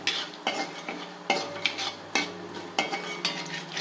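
Urad dal sizzles and crackles in a hot pan while a utensil stirs it in repeated scraping strokes, close and steady.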